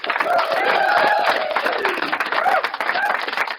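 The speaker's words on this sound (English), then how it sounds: "So I do want to give Bill Gossett, age 97, a round of applause." An audience claps for a 97-year-old graduate at a graduation ceremony, with dense, steady applause for a few seconds, a little uneven near the end.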